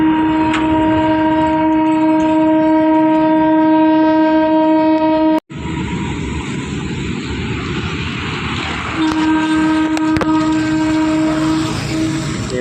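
A goods train hauling coal wagons rolls under an overbridge, its horn or engine droning in strong steady tones before a sharp cut, then a loud rumbling clatter of wagons passing close by.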